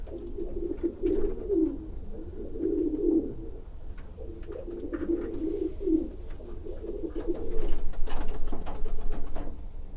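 Racing pigeons coo in low, throaty, rolling phrases, several overlapping calls close by, with a soft rustle of movement underneath.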